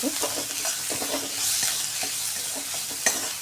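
Coarsely ground cinnamon stick with cardamom, cloves and peppercorns sizzling in hot oil, a steady close crackle broken by the scrape of a spoon stirring the pan, with one sharp clink near the end.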